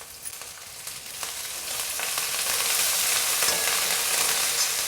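Green chilies and coriander fry in hot oil while murmura chivda is being made, giving a steady close sizzle that swells and grows louder across the clip, with a few faint stirring scrapes and no talking.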